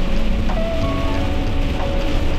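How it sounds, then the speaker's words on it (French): Steady rain falls continuously on a camper van, a dense hiss of drops on a surface with no voices, holding an even level throughout. "de la pluie, comme vous pouvez l'entendre en arrière-plan"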